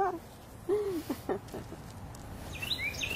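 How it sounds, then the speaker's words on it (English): A few short bird calls and chirps at moderate distance, some falling whistles and higher tweets later, faint outdoor background. "you hear the birds serenading us?"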